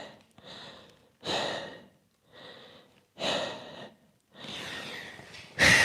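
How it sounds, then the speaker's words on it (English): Slow, deep breaths drawn into the belly during a stretching sequence in a Shotokan karate class, several long inhales and exhales in an even rhythm, close and fairly soft, with no talking over them. "Deep breathing into your belly."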